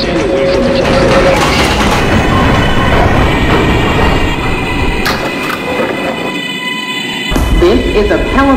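A local subway train rolls into a station in a video game, a steady loud rumble of wheels and motors with brief squeals and clatter as it approaches and slows.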